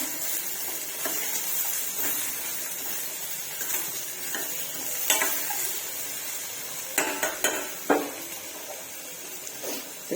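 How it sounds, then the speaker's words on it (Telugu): Chopped ivy gourd pieces stirred in a pan, with scattered clinks and scrapes of a utensil against the metal over a steady low sizzle, loudest in a few quick strokes near the end. "దొండకాయ ముక్కలు వేసుకున్నా. వీటన్నీ ఒకసారి కలుపుకున్నాము."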